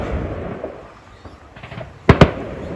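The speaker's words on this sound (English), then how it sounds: "This must be the finale because all the other ones before have been shitty garden fireworks" Small garden fireworks outdoors: two sharp, loud bangs in quick succession near the end, preceded by faint crackles and distant pops over a low rumbling background.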